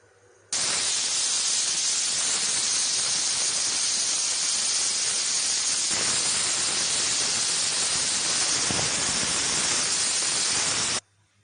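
A pressure cooker cooking sweet potato lets out a loud, sustained hiss of escaping steam that starts abruptly, holds steady for about ten seconds, then cuts off.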